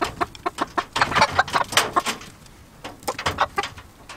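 Chickens cluck in a small coop, a rapid run of short, close clucks and squawks coming in uneven bursts, with a brief lull midway before the calls pick up again.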